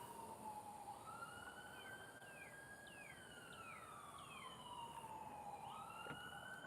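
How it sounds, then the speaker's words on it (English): Sirens wailing outside at night, several rising and falling tones overlapping at a distance, steady and fairly faint against a low background hum, with no voices. "Let's give these sirens a second."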